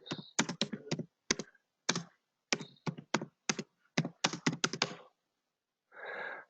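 Bursts of clicky keystrokes on a computer keyboard come in short irregular clusters with brief pauses, close and clear, ending with a soft breathy sigh.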